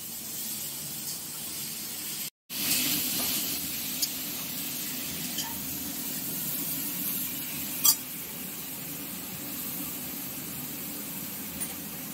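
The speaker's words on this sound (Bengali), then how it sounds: "দিয়ে দেওয়া হচ্ছে চিচিঙ্গাটা সেদ্ধ করে রাখা।" Boiled snake gourd cooks in a pan with a steady, fairly loud hiss and sizzle, broken by a short silent gap near the start and a few sharp clicks of stirring, with no voices.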